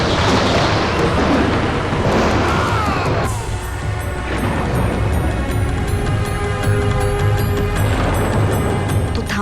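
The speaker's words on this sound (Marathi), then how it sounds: "अचानक ढगांचा गडगडाट झाला." Deep thunder rumbles through a film scene, a loud, continuous roll with crashing bursts and a sustained low boom that fills the whole stretch without pause.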